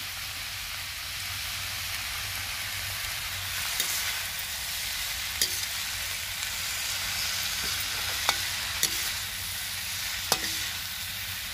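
Tinda (round gourd) and turmeric sizzle steadily in a pan in a village kitchen, a constant frying hiss punctuated by occasional light clicks of a stirring spoon.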